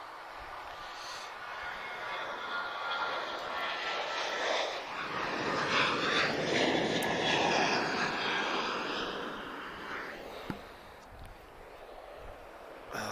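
Transavia airliner at Lisbon Airport, a broad engine roar that builds and swells over several seconds as the jet passes near, then slowly fades, heard alone with no talk.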